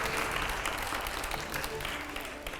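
Loud, steady applause from a studio audience during a televised Hindi interview show with a politician and film star, sustained throughout without speech.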